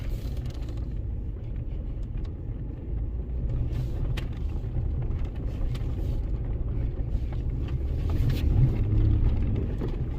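A 2011 Ford Ranger 4.0 4x4 truck driving in four-wheel drive, heard from inside as a steady low engine and road rumble that swells slightly toward the end.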